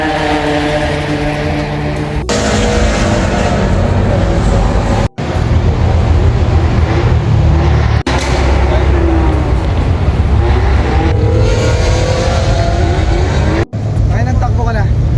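A Ferrari at a night trackday side event, engine roaring loud and close with rising and falling revs, sharp cuts between bursts, and voices faintly in the background.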